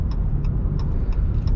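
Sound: car driving and turning right

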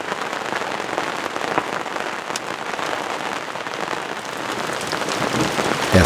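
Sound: rain

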